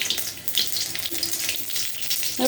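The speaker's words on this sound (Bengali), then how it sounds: "এবার আমি ফোড়নে দেবো কাঁচা লঙ্কা, অল্প একটু কালো জিরে, আর দেবো অল্প একটু রাঁধুনি।" Green chili, nigella seeds and radhuni hitting hot oil in a pan, giving a steady crackling sizzle with small pops, fairly close and continuous throughout, without any voices.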